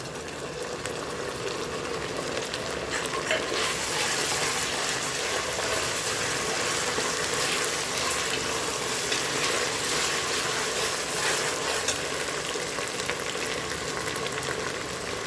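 Onions sautéing in a pan while making mutton dalcha curry, a dense steady frying hiss that holds at an even level throughout, with faint clinks and no talking.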